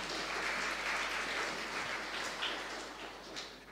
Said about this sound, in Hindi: ताली बजनी चाहिए इस बारे में।